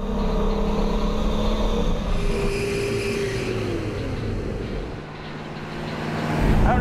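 A classic 1969 Dodge Charger with a Hellcat engine drives along, its deep engine note steady and close, easing off slightly before swelling louder again at the end.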